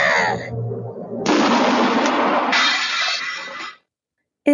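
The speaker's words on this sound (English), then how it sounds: "It is time once again for a shot out of a cannon" A sound-effect cannon shot bursts out loud and alone, a broad, rumbling blast that sustains for a few seconds before cutting to silence.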